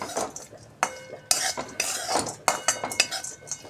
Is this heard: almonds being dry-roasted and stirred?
yes